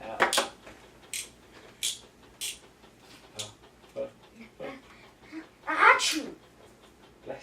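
A voice playfully imitates sneezes in a children's animal game, with several short bursts spaced through the clip and the loudest near the end, mixed with light speech.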